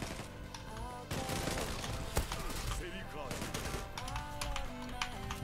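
Tommy Gun firing rapid automatic bursts in a video game, crackly gunfire spread through the clip with a few short pauses, mixed with game sounds and some speech.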